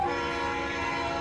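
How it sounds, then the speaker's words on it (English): A train horn from a Pennsylvania & Berwind locomotive blows one loud, steady, sustained chord close by, holding evenly for the whole moment with no talk over it. "Let's hear this horn."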